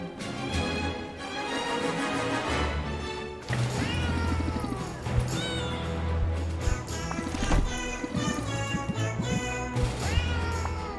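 Cat meowing from a cat box in the video game Potionomics, several distinct rising meows over a busy backdrop of game music and clatter, moderately loud with no speech.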